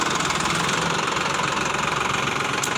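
A Sonalika 740 tractor engine runs close by, a loud, rhythmic diesel chug with a knocking, vibrating beat held steady from start to finish.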